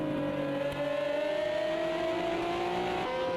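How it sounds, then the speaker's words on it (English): Ferrari 333SP race car engines roaring at high pitch around Road America in a racing video game, a steady loud drone with rising engine tones as the cars accelerate, no talking. "High-pitched engine sounds battling across Road America in the GAVRA League's Ferrari Championship"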